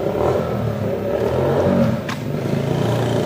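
A motorcycle passing on a street outside School 47 Antártida Argentina on Calle Luis Viale in Haedo, a loud revving engine rising and holding close by with a brief scrape midway.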